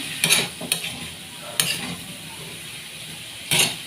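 A spatula stirs mixed vegetables in a pan, with a few short scraping clatters spaced apart over a quiet background and a faint low sizzle.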